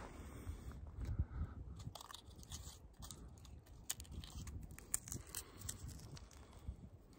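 Someone chews pine tree resin as forest chewing gum, with faint, close, sticky crunching and smacking bites repeating unevenly throughout.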